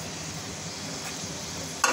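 Onions go into hot ghee in a pan while chana dal is being made, giving a steady, close frying hiss with faint stirring and a brief clatter at the end.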